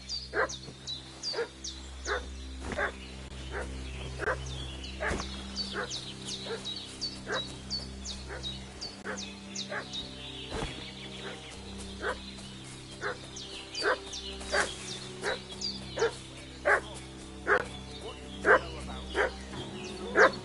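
A dog in the video game Kingdom Come Deliverance 2 keeps up a long run of sharp barks, yips and whimpers, repeating at an uneven rhythm from close by over a low ambient bed.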